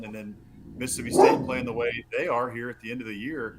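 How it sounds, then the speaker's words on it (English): Archie, a pet dog staring out a window, barks in short bursts that sit close and partly under continuous nearby talk from a man discussing college football. "That's my dog Archie, as you can hear"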